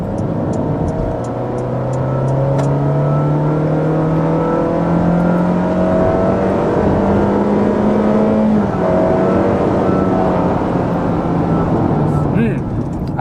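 Honda Freed gasoline engine pulling hard at full throttle, a steady rising drone climbing in pitch for about nine seconds before easing, heard from inside the cabin with a voice talking over it.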